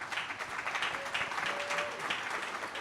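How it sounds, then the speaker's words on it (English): Conference audience applause for a panel on AI, a fairly quiet, continuous patter of many hands clapping at moderate distance, alone without talk. "please give a warm round of applause to our panel"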